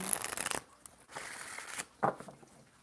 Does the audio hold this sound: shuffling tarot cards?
yes